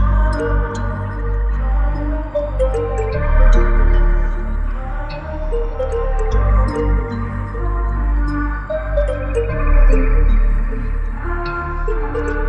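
A bright, chiming bell-like synth melody rings out over sustained low tones, its notes trailing into a wide, lingering reverb, loud and continuous.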